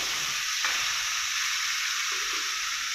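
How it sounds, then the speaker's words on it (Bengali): Mutton frying in a pan, with a steady broad sizzle and hiss that runs throughout and carries a few faint stirring scrapes, no voices. "সমস্ত মাংসটা দিয়ে দিয়েছি দিয়ে আমি ভালো করে নাড়াচাড়া করে নেবো"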